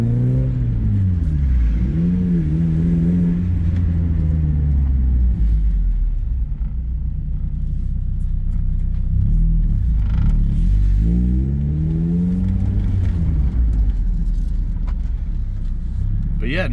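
A 1990 Mazda MX-5 Miata driving, its engine droning loud and close from inside the car, rising and falling in pitch as it pulls and shifts through the gears, with people talking over it.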